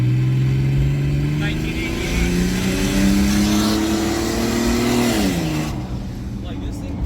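A 1989 Jeep XJ with an automatic gearbox accelerates hard. Its engine note climbs steadily and loudly, dips briefly as the transmission shifts, then settles into a lower drone.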